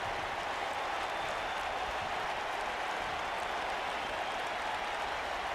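Packed arena crowd in a WWE 2K wrestling video game before a Raw tag team championship match, a steady, distant wash of cheering and applause-like noise with no distinct peaks.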